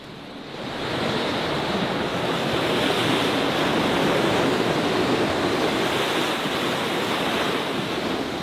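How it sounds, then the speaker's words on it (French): Ocean waves crash against the high wall of an island, a continuous loud roaring surge with wind, swelling in after a quieter opening second. "écoutez le bruit des vagues qui s'écrasent"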